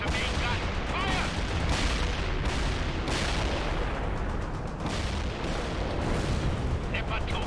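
Leopard 2 tanks and artillery firing in a World in Conflict: Soviet Assault battle, a dense run of loud booming shots and blasts, one after another, over continuous rumble, with radio-style voices talking now and then.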